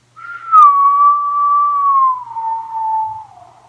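A person imitates the creepy whistling of the Whistler legend, producing one long, loud, steady whistled note that slowly slides downward in pitch over several seconds and fades at the end.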